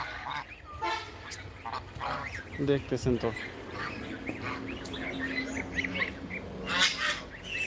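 A flock of domestic ducks quacks in short bursts at close range, with a person calling out and talking over them at times.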